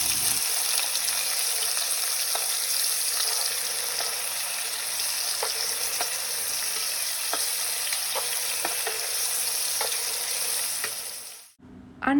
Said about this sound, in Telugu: ఫైన్లీ చాప్డ్ టొమాటోస్ వేసుకొని ఫ్రై చేసుకుందాం